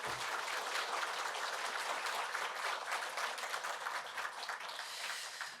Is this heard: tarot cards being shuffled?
no